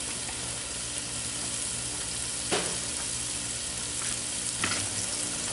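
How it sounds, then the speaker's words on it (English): Chopped bacon with a little oil sizzles in a Dutch oven, a steady close hiss with two brief scrapes or clinks partway through. "chopped bacon. Go ahead and get that in our Dutch oven and get that going."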